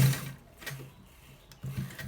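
Sewing machine running in short bursts while stitching a double collar (neck), a quiet mechanical whir that starts, pauses, then resumes, with no one talking.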